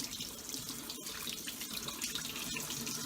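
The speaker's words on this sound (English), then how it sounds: "Under the cold water." Cold water runs steadily from a tap, a constant close rush with no break and no talking.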